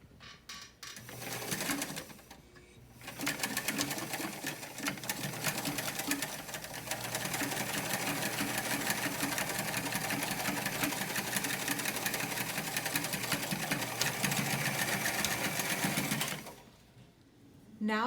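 Up close, a sewing machine top stitches a waterproof washable pad with a fast, steady mechanical whir and clatter that runs unbroken for about thirteen seconds, starting and stopping abruptly.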